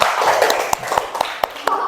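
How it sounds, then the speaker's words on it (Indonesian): Classroom applause for a student group, a few scattered individual claps standing out sharply over a soft bed of lighter clapping and murmur, short and close. "Silakan berikan tepuk tangan untuk kelompok ular."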